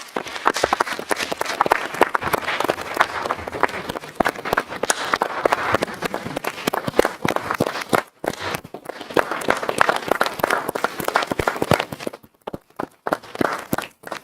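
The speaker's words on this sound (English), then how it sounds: "we give her a nice round of applause and congratulate her on her achievements as council" Council meeting audience claps for a councilor's achievements, loud close-up applause with uneven bursts and brief gaps, continuing for over ten seconds.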